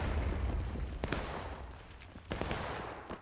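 Cannon fire in War of Rights at a Civil War river crossing: a dull background of battle rumble broken by two sharp booming reports, moderately distant.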